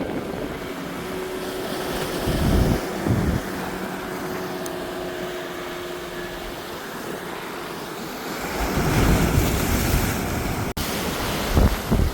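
Sea waves break on the rocky shore right behind a seaside church. Heavy surges rise around the start and again near the end, over steady wind buffeting the microphone.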